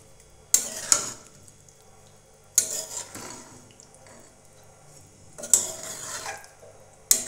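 Paneer curry stirred in a pan with ghee and garam masala, off the heat: four separate bursts of metal spoon scraping and clinking against the pan, with quiet gaps between them.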